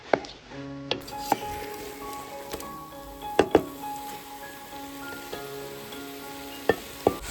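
Green chili, ginger and garlic are stirred and fried in a pan for chicken biriyani, with a faint sizzle under scattered clinks and scrapes of a utensil against the pan, quiet and close.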